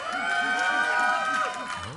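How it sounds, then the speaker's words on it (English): A live esports audience at a League of Legends match between Epik Gamer and TSM cheers and whoops in a loud, sustained burst, shouts echoing through the arena before fading slightly. "A lot of crowd feedback there."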